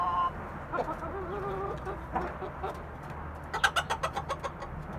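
A naked neck rooster clucks and calls nearby, with short clucks and a louder burst of rapid clucking near the end.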